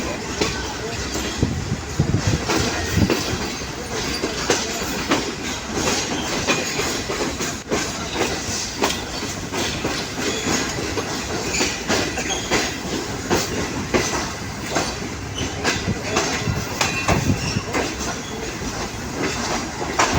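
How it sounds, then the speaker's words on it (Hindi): A GreenLine Express train pulling into platform 2 at Lahore railway station, with a steady rumble and rolling clatter of wheels and carriages lasting throughout, close and loud, while people talk underneath. "हमारी ट्रेन 5 अब green line express platform number 2 पर लाहौर रेलवे स्टेशन पर अराइवल बना रही है।"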